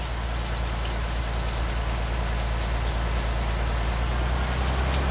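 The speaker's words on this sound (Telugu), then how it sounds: "వర్షం పడుతుంది ఇప్పుడే." Rain pours steadily in Bus Simulator Indonesia, a dense, even hiss of falling drops over a low engine drone that holds at constant loudness throughout, with no talk.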